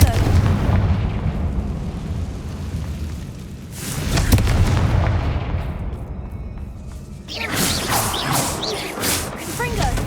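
Confringo fire-blast spell from Hogwarts Legacy going off in booming, rumbling explosions, a heavy blast with rolling low rumble around four seconds and another crackling burst near the end over steady game ambience.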